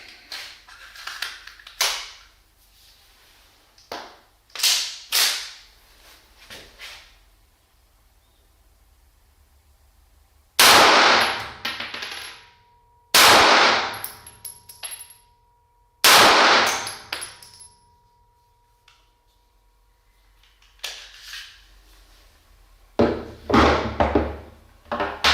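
Korth pistol shots fired in an indoor shooting room: three loud, sharp reports in close succession with ringing decay, preceded and followed by quieter clicks and handling clatter of the gun.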